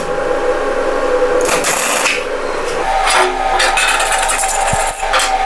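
ENON inverter welding machine welding an iron plate gives a loud, steady, harsh crackling hiss that runs the whole time, with brief bursts of brighter sputter along the way.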